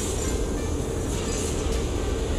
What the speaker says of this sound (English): I can hear the train